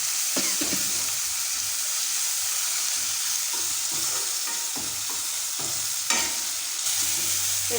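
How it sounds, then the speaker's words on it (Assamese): Chopped tomatoes fry in oil in a pan over lowered gas heat, giving a continuous soft sizzle broken by repeated scraping stirs, heard close and alone. "বিলাহীখিনি ভাজি লৈছোঁ তেলতে"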